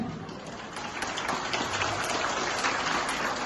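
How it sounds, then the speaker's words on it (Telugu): An audience claps steadily at a public meeting in the KAR Kalyana Mandapam hall in Garividi, a dense, continuous patter of many hands that holds even and fairly loud with no voices over it. "చప్పట్లు మెల్లమెల్ల వస్తున్నాయి"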